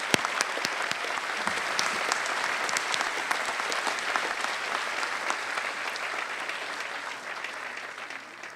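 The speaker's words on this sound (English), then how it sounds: "Final round of applause." A large audience at a Cal State LA university convocation breaks into sustained applause, a dense, loud wash of clapping that holds steady and tapers slightly toward the end, with no talk over it.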